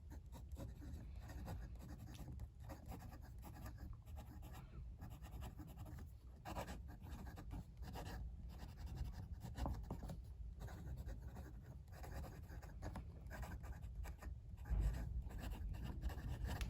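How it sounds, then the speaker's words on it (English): Lamy CP1 fountain pen with a steel fine nib and black ink writing on paper, soft scratchy strokes in short bursts separated by brief pauses, close and quiet, with no talking. "Let's do some writing."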